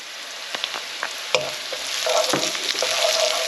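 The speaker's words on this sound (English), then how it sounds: "So I'm going to pop in the garlic and the ginger." Garlic and ginger frying in a pan for chicken tikka balti, a close steady sizzle that swells as they go in, with scattered clicks and stirring scrapes and no speech.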